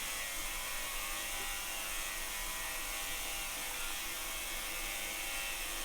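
A belt grinder running a 400 grit belt to finish the bevels on a knife, a steady, close, high-pitched abrasive hiss and whir that stays unbroken, with no talking.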